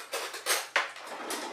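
A ginger beer bug is stirred in a container, with several short scraping clinks and knocks at an uneven rhythm and no talking.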